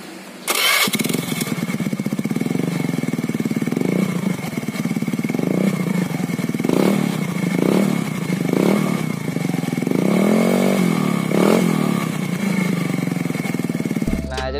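Honda Beat carburetor scooter with a bored-out exhaust starts up, then idles roughly and is revved in a series of short blips, loud and close, with a steady engine drone throughout.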